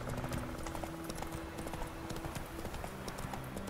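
Horse hooves galloping in the video game The Witcher 3, with a rapid, steady clip-clop rhythm of hoofbeats, close and continuous throughout.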